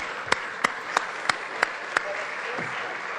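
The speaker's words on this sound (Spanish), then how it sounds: "se merecen un aplauso de todos nosotros" Applause fills a legislative chamber during an ordinary session of the Jalisco state congress, a steady broadband clatter of many hands, with several sharper, louder claps standing out at regular intervals.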